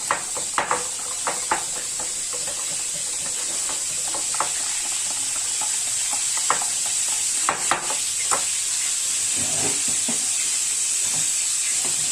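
Tilapia seasoned with cumin and black pepper sizzles steadily in a hot pan, with a constant frying hiss and scattered scraping taps as it is stirred, close and fairly loud.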